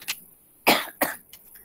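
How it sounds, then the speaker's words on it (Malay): Two or three short, close coughs sound from a speaker in a quiet room during an online academic talk, each sharp burst followed by a brief pause. "Saya minta maaf ya sambil batuk sikit."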